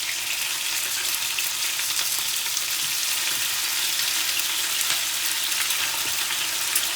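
Cubed chicken pieces fry in a pan for guisadong manok, giving a steady, close hiss of sizzling oil throughout with faint stirring and no talk.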